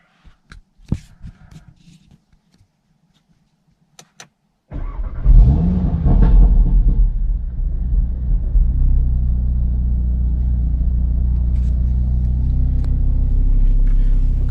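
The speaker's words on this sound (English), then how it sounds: "So what I'm going to do is start the car." After a few faint clicks and knocks, an Audi RS3 engine starts with a sharp burst of revs, then drops into a loud, steady, deep idle that continues to the end.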